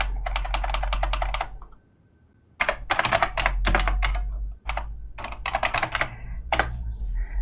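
Rapid clattering keystrokes on a computer keyboard in Vampire the Masquerade: Bloodlines come in several quick bursts separated by short pauses, close and crisp over a low hum.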